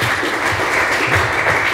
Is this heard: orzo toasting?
no